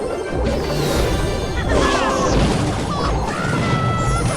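Firecracker attack damage in the mobile strategy game Clash Royale, a dense run of crashing, popping explosion hits over busy game music and effects, loud and continuous throughout.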